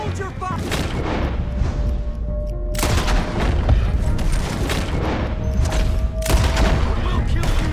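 Gunfire in the western video game Red Dead Redemption 2, loud repeated shots and booming blasts in dense overlapping bursts throughout, with strong bursts near the start and later on, under shouting voices.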